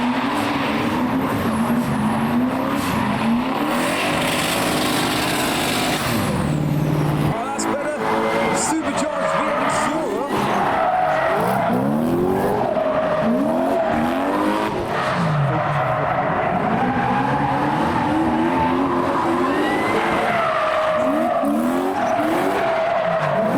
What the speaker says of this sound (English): There's a chrome E46 doing some skids.